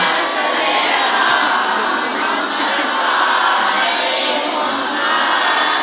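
Large gathering at a religious majlis in Delhi chanting the slogan Ya Ali in unison, a loud sustained roar of many voices shouting together that swells and holds for several seconds.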